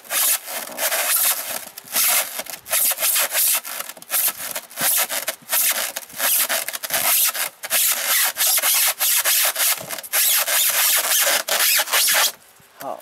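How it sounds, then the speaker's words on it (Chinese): Harsh rhythmic rasping as a hole is drilled into a styrofoam box, close and loud in a series of grinding strokes with brief pauses, no talking. "开始再钻了。"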